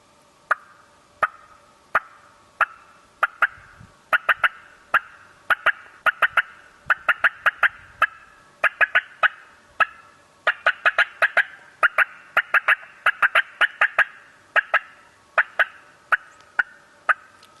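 A turkey call imitating hen cutting: sharp, loud clucks fired in uneven bursts of one, two and three, with irregular broken rhythm throughout.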